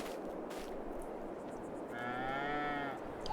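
A single cow in Farming Simulator 22 gives one drawn-out moo lasting about a second, heard close and clear over a soft steady ambient backdrop.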